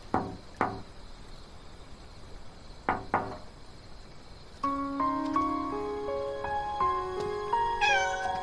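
A cat meows in a drama scene, with a few short sharp knocks or vocal bursts early on, then a melodic music passage entering partway through and continuing to the end.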